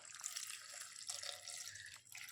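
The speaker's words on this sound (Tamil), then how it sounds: "இது முங்குற அளவுக்கு தண்ணி ஊற்றிக்கணும்." Water is poured into a pressure cooker holding onions, turmeric and asafoetida for a sambar made without lentils, giving a faint, steady trickling pour of about two seconds.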